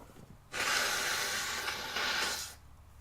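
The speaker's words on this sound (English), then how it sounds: "Hang on, I gotta blow my nose." A person with a cold and lots of mucus blows their nose once in a single long, loud, hissing burst of about two seconds, close to the microphone, with no talk.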